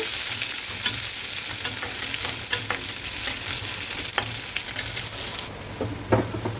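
Onion frying in hot oil with mustard seeds and dried chili, a continuous close sizzle with scattered crackles and pops and occasional stirring scrapes, no voices.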